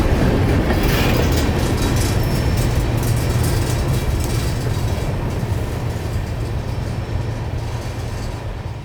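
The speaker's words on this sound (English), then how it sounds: "These empty phosphate hoppers are headed down to the giant New Wales phosphate processing plant to be loaded again with phosphate" An empty freight train of phosphate hoppers rolls past near Mulberry, Florida, a loud steady rumble with rhythmic clattering of wheels over rail joints that eases slightly toward the end.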